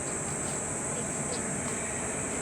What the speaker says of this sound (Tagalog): Ay, ang ingay ng kuliglig.